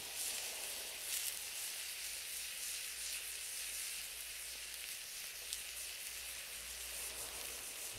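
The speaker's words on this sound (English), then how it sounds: "After boiling the sausages, we cook them on a slightly old griddle for a couple of minutes" Boiled Ancient Roman farcimina sausages fry on a slightly old griddle with a pinch of salt, giving a steady, soft, continuous sizzle and hiss throughout with no talking.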